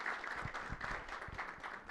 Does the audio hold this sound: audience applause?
yes